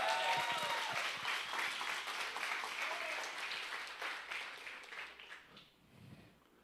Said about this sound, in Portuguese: Será que você pode dar um salva de palmas ao Senhor Jesus?